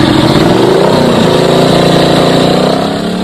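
A motorcycle on a main road roars loudly and close by, its engine droning steadily with a shifting pitch before easing slightly at the end, with no voices over it.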